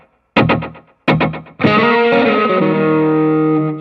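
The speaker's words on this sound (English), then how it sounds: "I've got a real quick slapback echo, so it's just like da da da" An electric guitar played through a Spark amp with a tape-echo slapback effect: two quick distorted strummed stabs with short echo repeats, then a loud sustained distorted chord ringing out.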